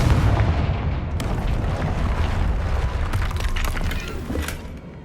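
The Confringo spell from Hogwarts Legacy blasts through a barrier in a dense, sustained roaring explosion that fills the whole stretch at high loudness, with rumbling debris and a few sharper cracks along the way.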